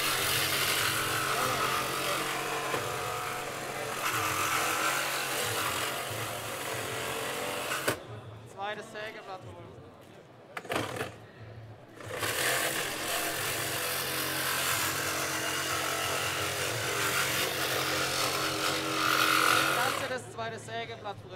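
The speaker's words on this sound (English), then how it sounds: "Trying to get to the B pillar with a recip saw now." At a vehicle rescue challenge, a reciprocating saw cuts through a car's B pillar: a loud, continuous buzzing rasp with a short pause, restarting over crowd noise and speech from people nearby.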